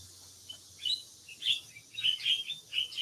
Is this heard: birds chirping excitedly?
yes